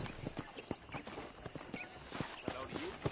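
Horse hooves clip-clop in a steady rhythm on a ranch in the Red Dead Redemption video game, close and clear, with a brief whinny and game dialogue voices talking over the hoofbeats.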